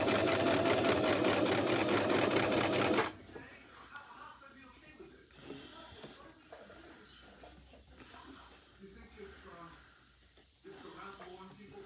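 Sewing machine stitching fabric in a straight line along the edge, a loud steady mechanical whirr for about three seconds, then stopping while quieter handling noise follows.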